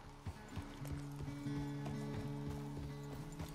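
Horse hooves clip-clop in Red Dead Redemption 2, a faint, uneven string of hoof strikes under a low steady musical drone, with occasional snorts and no talk.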